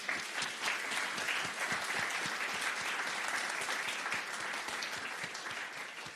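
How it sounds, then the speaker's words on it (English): An audience claps steadily at an academic lecture event on fascism, a dense, even round of applause lasting several seconds with no talking over it. "Please give them a round of applause."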